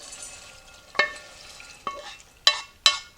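Pecans stirred in a hot pan on a burner: a quiet crackling sizzle with several sharp scraping knocks of the spoon, spaced about half a second to a second apart and growing louder near the end.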